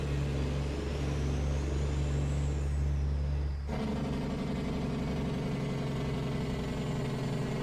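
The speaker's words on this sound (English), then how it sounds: "And the Jake brakes sound really," In American Truck Simulator, a modded Cummins truck engine rumbles steadily, then abruptly switches to a harsh, rapid-fire Jake brake rattle that stays loud and continuous to the end.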